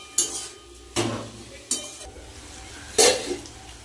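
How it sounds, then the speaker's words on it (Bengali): Small fish (chuno mach) gently turned in a frying pan for a spicy curry, with a soft sizzle beneath four distinct scraping strokes of a spatula spaced about a second apart, close and moderately loud. "একটু এপিট ওপিট করে দেবো। খুব বেশি আলতোভাবেই নাড়াবো"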